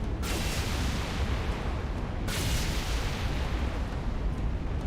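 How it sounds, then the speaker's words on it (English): Halo 3 mod MAC cannon firing and impacting, heard as two heavy rumbling bursts about two seconds apart over a dense, roaring blast wash, no talk. "we have to make that Mac cannon, like, have a way more badass impact"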